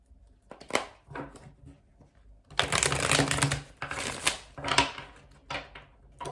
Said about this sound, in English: Okay, one last shuffle.